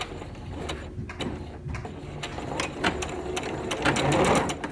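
Domestic sewing machine stitching a pillowcase seam, running steadily with a clattering needle rhythm and a brief back tack reversal near the end, close and alone without talk.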